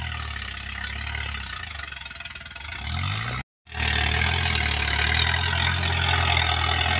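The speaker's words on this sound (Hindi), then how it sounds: "देखते हैं 585 ट्रैक्टर है कैसा जोर लगाता है" A 585 DI XP Plus tractor engine running under load, a loud, steady low rumble with a rising note, a brief dropout midway, then the drone resumes at full strength, with no voices.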